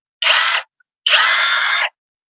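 A Makita cordless battery impact wrench runs in two loud, close bursts, a short one followed by a longer one after a brief pause, each a steady high whine with no talking.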